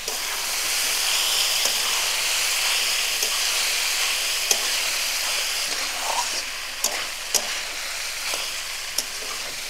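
Jackfruit pieces go into a sizzling pan with kalai dal for a spicy curry, giving a steady, loud frying hiss punctuated by several sharp clinks of a utensil against the pan.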